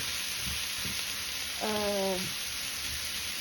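Courgette and onions cook gently in a pan for a quiche, a soft steady sizzle close by, with a brief tonal hum partway through and faint handling sounds.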